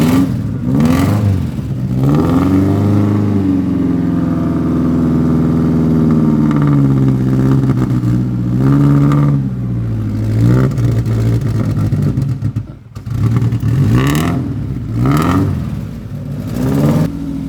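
A car engine runs and revs in repeated rising and falling sweeps, loud and close, with brief dips between pulls and no talk over it.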